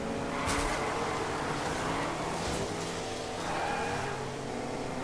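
Engine noise of a car driving in the video game Fortnite, a steady motor drone with a few brief louder bursts, continuous at moderate level with no talk over it.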